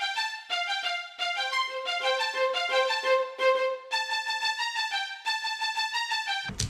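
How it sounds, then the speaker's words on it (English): Layered violin parts, some panned left and some right, play the sustained theme, with long bowed notes and steady phrases in a clean, close mix. "As you can see, these violin tracks are panned a bit to the left."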